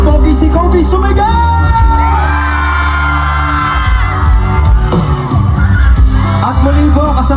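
A concert crowd at a Coke Studio show shouts, whoops and cheers at full volume over the band's music. The roar stays loud and dense the whole way through.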